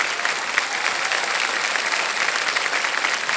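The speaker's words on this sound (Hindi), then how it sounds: "ताली बजाएं इनके लिए।" A studio audience on a TV quiz game show applauds steadily, a dense even patter of many hands clapping at moderate loudness throughout, with no talk over it.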